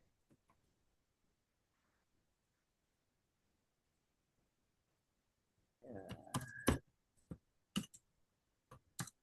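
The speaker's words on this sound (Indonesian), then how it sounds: "Boleh langsung ngetik." A few sharp computer keyboard clicks come in short, irregular bursts after a long quiet stretch, close and fairly faint.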